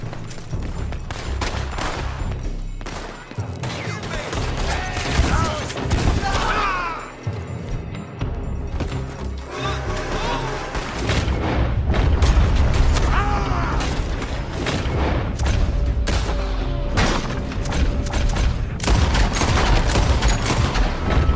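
Gunfire in Red Dead Redemption 2, loud dense bursts of shots and booms crowding together with mechanical clicks and creaks, sustained throughout at close range.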